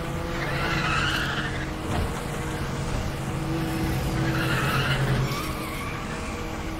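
A Nissan Skyline GT-R R35 accelerates and skids in the racing video game Need for Speed The Run, its engine droning steadily under two long, wavering tire squeals, near and loud, with no voices.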